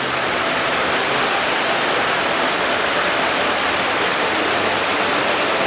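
A forest waterfall spills over rocks into a stream, roaring as a loud, steady, unbroken rush of water heard up close.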